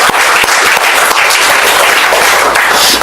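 A church congregation gives loud, dense applause of thanks, many hands clapping steadily and close for a few seconds without a break.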